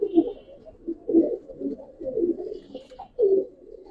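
Giribaz pigeons in a loft give repeated low, throaty coos in rhythmic bursts, close and fairly loud against a quiet background.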